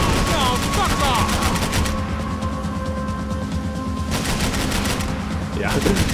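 Rapid automatic gunfire in Max Payne 3 during a vehicle chase, loud and sustained in dense bursts that pause briefly and then resume, over engine rumble.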